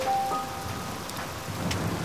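Steady rain patters on surfaces at night, with a low rumble of thunder in the background and a couple of brief higher tones over the wash, no voices.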